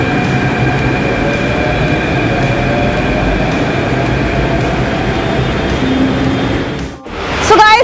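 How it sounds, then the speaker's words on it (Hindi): A Jaipur Metro train rumbles steadily close by at Badi Chopad station, its hum and rail noise filling the underground platform before pulling away with a brief screech at the end. "मेट्रो तो मिस हो गई है मुझसे"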